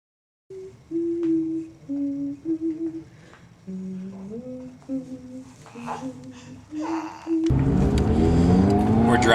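A car drives on the road, its cabin filled with a steady rush of road noise that rises in the last couple of seconds after a stretch of voices inside.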